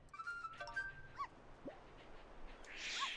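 Dog in the Wii Sports Resort frisbee game gives faint, high whimpers and short yips, a few thin whines scattered over a quiet background with a soft hiss building at the end.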